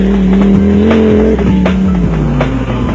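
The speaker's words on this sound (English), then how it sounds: "the crowd-pleasing 4x4 Jojo Tanks VW Beetle, which is powered by a turbocharged Volvo engine" A 4x4 VW Beetle off-road race car with a turbocharged Volvo engine, running in a South African off-road race, roars loudly and steadily up close, its engine pitch rising and dipping through gear changes.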